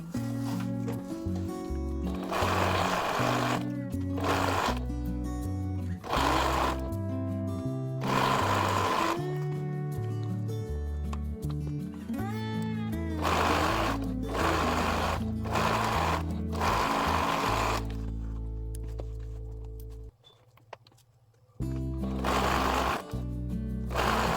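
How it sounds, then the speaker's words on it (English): A sewing machine stitches stripes onto a worn-out Longchamp bag, its loud, steady mechanical whir running in long bursts that stop and restart, with a brief quiet pause near the end. "Right, so let's start sewing."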